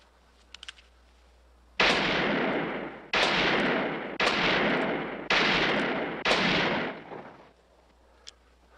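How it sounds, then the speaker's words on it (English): Five loud gunshots from target shooting in a western film ring out at roughly one-second intervals, each a sharp crack with a long echoing tail, preceded by faint clicks. "That's good shooting, Gillum."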